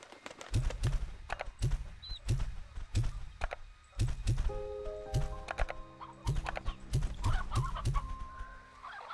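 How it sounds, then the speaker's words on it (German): Chickens in the video game Slime Rancher 2 cluck in short repeated bursts amid hollow knocking and clopping steps, with a few brighter tonal game chimes partway through. "Ich glaube, in der Nähe sollten auch noch mal die Hühner sein"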